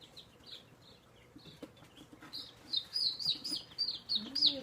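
Ameraucana chicks give soft, high chirps and peeps in short bursts that grow busier and louder toward the end. They are fairly close over quiet low background noise.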